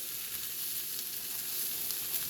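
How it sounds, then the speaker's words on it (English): Rice toasting in a pan for risotto, giving a steady, close sizzle with a broad hiss that holds at an even level throughout, with no talking. "We're just toasting some rice."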